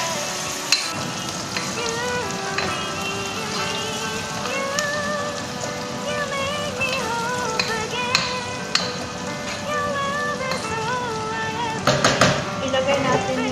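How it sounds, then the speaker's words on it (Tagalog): Onions browning in a frying pan for chicken in coconut milk, a steady close crackling sizzle throughout, with occasional stirring clicks and a voice speaking over it. "Brown natin siya kunti. Okay? Make brown lang yung sibuyas."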